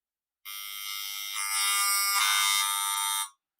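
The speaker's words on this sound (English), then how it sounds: "a cordless phone," Radio-frequency emissions from a cordless phone converted to sound: a harsh, buzzing electronic tone with dense harmonics, starting abruptly, growing louder partway through, then cutting off after about three seconds, heard alone.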